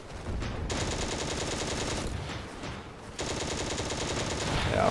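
Sustained machine gun fire from a Panzer II tank in the Steel Fury video game, loud rapid bursts with a brief lull near the middle before firing resumes alongside other battle noise.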